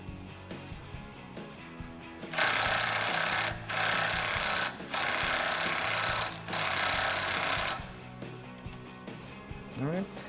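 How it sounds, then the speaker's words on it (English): A 19 mm nut on the strut top hat of a 2015-2019 Ford F150 being tightened with a power tool during a Teraflex leveling kit install, several loud whirring bursts separated by short pauses over a hum. "now let me tighten up that nut. It is going to be a 19 millimeter nut on the top of that top hat."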